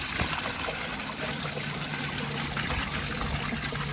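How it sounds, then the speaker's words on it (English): An American Standard toilet flushes with a steady rushing, trickling water sound that stays loud and continuous throughout, close by and with no talk. "here's a flush"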